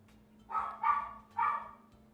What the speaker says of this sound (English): you guys can hear the dog on the other side of the house.